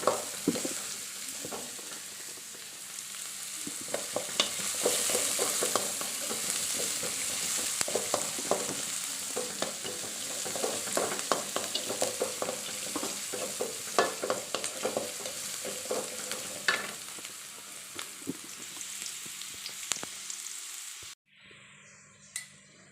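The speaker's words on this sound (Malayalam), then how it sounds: "ഈ ഉള്ളി അരിഞ്ഞിട്ട് കൊടുക്കുക അതിനുശേഷം അത് ഒന്ന് ചുവന്ന കളറാവുന്ന വരെ" Chopped onions fry in a pan with a loud, constant sizzle. Spatula scrapes and taps against the pan come through close up, and the sound stops suddenly near the end.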